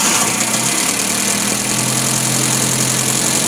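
The engine of a Nissan C22 Vanette, which is hard to start and low on power, runs at a steady idle, loud and close, with a continuous rumble and no break.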